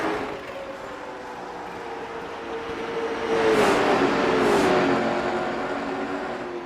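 Late model race cars roar around the Nashville Fairgrounds track, a steady engine drone with a rising, swelling pass as cars run side by side, loud and continuous without talk.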